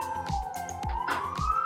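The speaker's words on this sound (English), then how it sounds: "As you can hear the sirens running through the city." Emergency sirens wailing through city streets, a rising and falling tone with rhythmic low thumps beneath, fairly close and loud with no talk.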